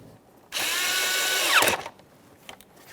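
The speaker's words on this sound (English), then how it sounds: "Tighten your 8mm headed mounting clamp." A power tool drives an 8mm headed mounting clamp tight on the air filter housing of a 2011-2021 Jeep Grand Cherokee during a cooling fan replacement, one loud burst of about a second and a half that winds down, then faint clicks.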